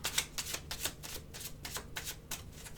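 Cartomancy cards are shuffled by hand, a rapid series of close, crisp riffling flutters in quick bursts, quiet and without speech.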